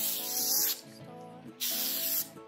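Hairspray hisses from an aerosol can onto short hair in two close, sustained bursts separated by a brief pause.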